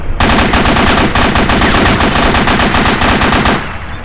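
A loud, steady burst of automatic gunfire in ArmA 2 with the ACE mod: rapid, evenly spaced shots rattle close by for about three and a half seconds and then stop abruptly, with no talk over them.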